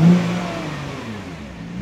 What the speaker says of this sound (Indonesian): Oke, kita coba gas.